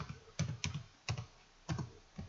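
Keys on a computer keyboard clack in a few sparse, separate presses, quiet and close, with silence between them and no talk.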